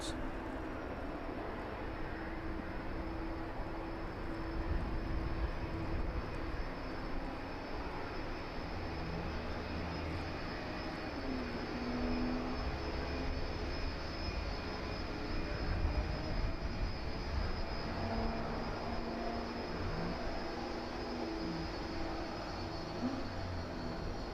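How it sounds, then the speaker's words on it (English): A 36-year-old DHL Boeing 757 cargo jet touches down at East Midlands Airport in the evening, its engines giving a steady, fairly distant roar that swells twice as it rolls out. "Touching down then, 2 hours and 15 minutes after taking off from Reykjavik."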